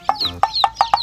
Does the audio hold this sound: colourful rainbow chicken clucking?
yes